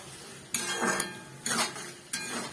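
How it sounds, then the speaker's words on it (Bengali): Green peas stirred in a cooking pan with a metal utensil for a vegetarian cauliflower dish, three distinct scraping clatters spaced about a second apart over a faint background, with no talking. "মটরশুঁটিগুলো দিয়েও একটু ভালো করে নাড়িয়ে নেব।"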